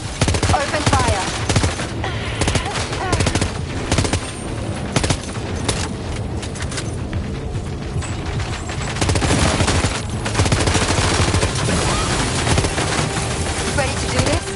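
Sustained automatic gunfire from Death Stranding 2, with dense, continuous bursts and booms running throughout. Voices talk intermittently over the shooting.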